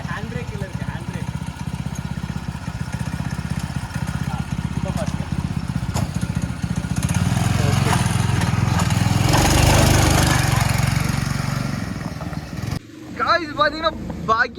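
An off-road buggy engine drones and revs while being driven in Wayanad, building to a louder surge near the middle, with people talking over it and a sudden drop near the end.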